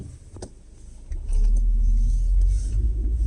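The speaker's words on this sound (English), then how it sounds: "Just gonna let this car go by" A car passes on a residential street in Little Falls, New Jersey, its engine rumble swelling from quiet to a loud, close, sustained roar as it goes by, with no talk.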